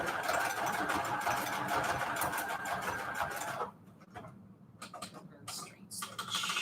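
A sewing machine runs a long, wide Frankenstein stitch through fabric on manila tags, whirring steadily and close up, then stopping and starting in short bursts.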